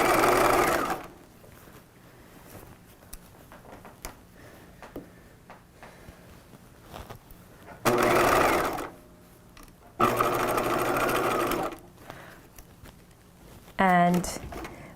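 Bursts of a sewing machine stitching a dress side seam on a 1950s shelf-bust dress, several separate runs of close whirring broken by quiet pauses and handling noise.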